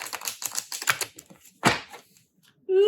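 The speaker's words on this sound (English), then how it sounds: "Let's see how this deck sounds and shuffles right out of the box" A new Witchlings tarot deck is shuffled right out of the box, a quick run of crisp card riffles and flutters, close and clear, ending with a short voiced sound.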